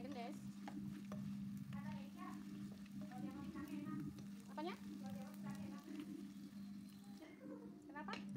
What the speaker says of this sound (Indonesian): langsung aja kita goreng dulu ikan asin layangnya